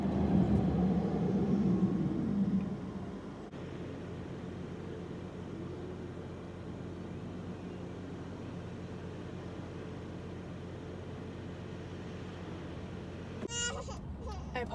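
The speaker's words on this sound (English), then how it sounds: "I apologize for my crying baby" A baby cries and whimpers close by in a car at the start, then fades to soft fussing under a steady low road rumble, with a brief sound near the end.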